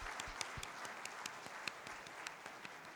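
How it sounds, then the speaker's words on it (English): Audience applause after a speech at a conference session, fairly faint and distant, with scattered individual claps standing out over a soft wash of clapping. "A big round of applause."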